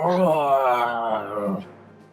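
A human voice imitates a monster's drawn-out howl during a tabletop role-playing session: one loud, tonal, growling cry lasting about a second and a half before trailing off.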